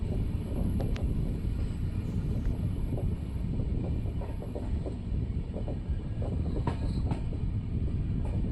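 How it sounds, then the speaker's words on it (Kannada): The Basava Express rumbles steadily through Kudagi railway station without stopping, heard from on board as a dense low roar with faint rhythmic clatter and wind buffeting the microphone, no voices. "ನಮ್ಮ ಟ್ರೈನ್ ಈಗ ಕುಡಗಿ ರೈಲ್ವೆ ಸ್ಟೇಷನ್ನ ಸ್ಕಿಪ್ ಮಾಡ್ತಿದೆ."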